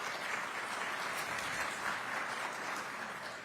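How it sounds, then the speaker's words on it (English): An outdoor crowd claps at the Oklahoma kickoff of the Route 66 centennial celebrations, with continuous applause that is fairly soft and distant and holds even throughout. "one more round of applause for Lauren."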